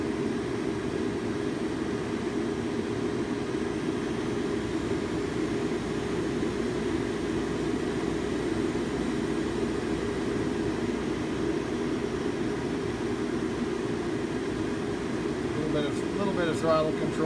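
A HPEVS AC 35 electric motor spins with no load, giving a steady, even drone that holds a constant pitch throughout with no pauses.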